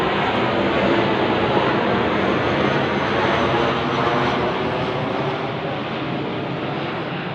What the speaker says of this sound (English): Plane overhead, you know, straight over the house